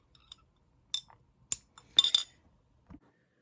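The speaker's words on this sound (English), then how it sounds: "It's my glass straw with a pineapple on it." Glass straw clinking against a glass of lemon seltzer with sugar cubes, a handful of sharp bright taps and rattles spread over a few seconds, close and fairly quiet with no talking.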